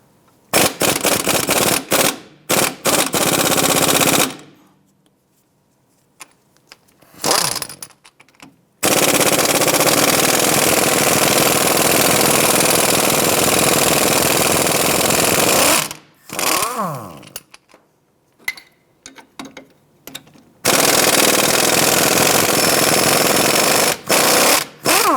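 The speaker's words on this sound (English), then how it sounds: "Using an 18mm socket and 18mm wrench, let's go ahead and remove the two strut" Impact-style rattling bursts loosening 18mm strut bolts on a 2001-2007 Ford Escape, long loud continuous hammering runs broken by short pauses and quick clicks, close and harsh.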